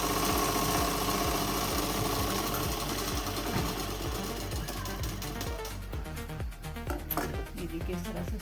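A sewing machine runs steadily, stitching a double seam along the side of a shalwar with a fast, even mechanical rattle that stays loud and continuous, easing slightly toward the end.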